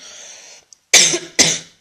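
Two loud, close coughs from a woman in quick succession, each a sharp burst with a rough tail, following a faint hiss.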